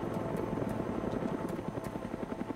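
A helicopter in the survival game DayZ passes close overhead, its rapid rotor thump pulsing loudly and evenly throughout, with no talking.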